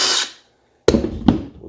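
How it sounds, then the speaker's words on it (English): A power drill spins a burr bit to clean out a U-joint yoke, two short bursts of close, loud grinding whine separated by a brief pause, with no talk. "very carefully we're going to use a burr bit on the end of a drill"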